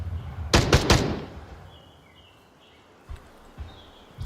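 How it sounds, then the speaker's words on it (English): Three quick gunshots ring out close together in the Onward VR multiplayer shooter, followed by a few fainter distant shots amid quiet ambient outdoor game sounds. "Those gunshots could have been heard."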